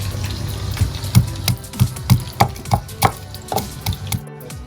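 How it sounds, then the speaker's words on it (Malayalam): Whole garlic cloves with skin on crushed for a crispy anchovy fish fry, about a dozen steady rhythmic pounding thuds close by, evenly spaced with a faint watery background, stopping just before the end. "നമുക്ക് ഈ വെളുത്തുള്ളി ചതച്ചെടുക്കാം. തൊലിയോടുകൂടി ഇട്ടിട്ടാണ് ചതച്ചെടുക്കുന്നത്."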